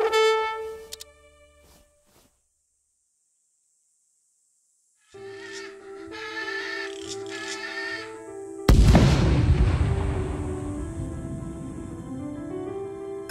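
Explosions in the Age of Empires III Definitive Edition campaign, set on Malta against Ottoman weapon caches: after a silent gap and low game music, a loud broadband boom hits sharply and decays into rumbling debris under continuing music.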